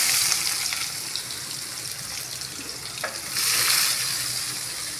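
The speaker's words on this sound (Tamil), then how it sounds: "வெங்காயத்தை சேர்த்து நல்லா வதக்கணும்" Onions hiss and crackle in hot oil with cinnamon and fennel, a dense steady sizzle close by that swells louder near the end as the pan is worked, with no speech over it.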